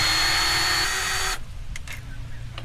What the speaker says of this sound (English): set this to go drill, to take the screws out here